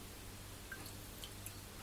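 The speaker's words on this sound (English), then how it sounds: "I'm just squeezing out those tea bags" Tea bags soaked in boiling water being squeezed out by hand for kombucha, giving faint, sparse drips and small wet squishes, close and quiet.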